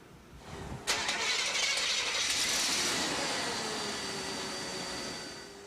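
An ice resurfacer's engine cranks and starts with a sudden burst, then settles into a steady, loud, close idle that fades slightly over several seconds, with no talk.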